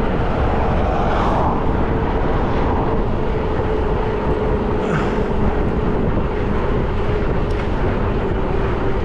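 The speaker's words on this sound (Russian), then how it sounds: "Еще и ветер." Loud, constant wind roars and buffets the microphone while riding an electric bike in Abkhazia in November, a dense low rumble with no pauses.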